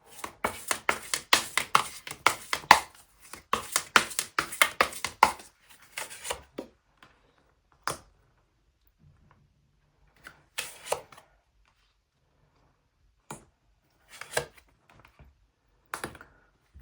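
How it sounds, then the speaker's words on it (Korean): Tarot cards being shuffled in a rapid run of crisp riffling slaps, then a few isolated snaps and taps as single cards are drawn and laid down, close and clear with no voices. "그렇다면 주의해야 할 점 카드도 한번 뽑아보도록 할게요"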